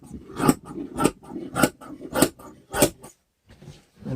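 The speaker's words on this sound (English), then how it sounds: "now we're going to trim this down the sides there" Scissors trimming corner bass trap material down the sides, giving about five evenly spaced crisp snips, close and fairly quiet, followed by a short pause.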